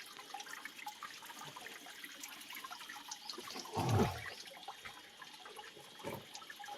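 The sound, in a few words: natural cold water flowing from the ground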